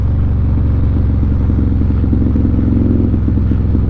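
A Harley-Davidson 128 Street Glide with 177 horsepower rumbles loudly and continuously at about 30 mph on a wooded road, its low, lumpy V-twin pulse shifting slightly as it gears down.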